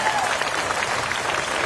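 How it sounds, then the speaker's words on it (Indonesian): Congregation clapping during a church service in Sibolga, steady dense applause filling the room throughout, loud and continuous with a crowd murmur beneath. "Mana tepuk tangannya bagi Yesus?"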